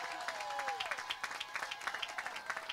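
Applause from an audience at a credit union grand opening, steady dense clapping with some crowd noise and a few whistles, moderately distant and sustained throughout.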